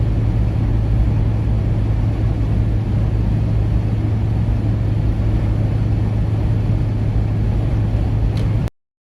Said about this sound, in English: Accelerating away. Keep on accelerating.